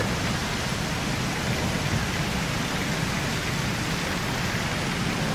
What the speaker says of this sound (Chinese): 怎么会这么大雨啊？